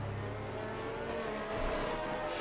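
Race cars in the video game F1 22 at the Baku street circuit, a steady engine drone with a slight rise in pitch near the end, fairly quiet, with no voices.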